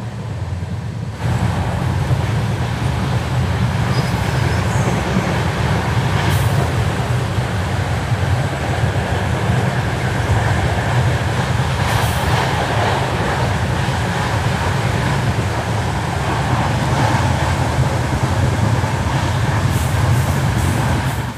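An Indian passenger train on the Lalgarh–Phalodi section runs steadily at speed, a loud continuous rumble and rattle of wheels on track from inside the train, with occasional clacks over rail joints.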